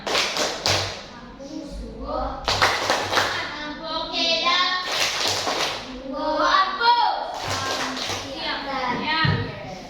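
Children in a classroom clap a rhythmic chant together, sharp hand claps in patterned bursts mixed with their voices calling along, close and lively.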